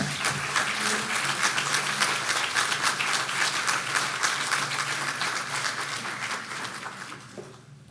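Sustained audience applause welcoming two speakers at a humanities event, dense steady clapping from a full room that holds for several seconds before tapering off near the end.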